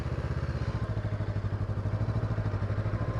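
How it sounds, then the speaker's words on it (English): Motorcycle engine idling with a little throttle in the friction zone during a tight slow-speed turn from a stop, a steady close pulsing rumble throughout with no talk. "A little bit of throttle, friction zone."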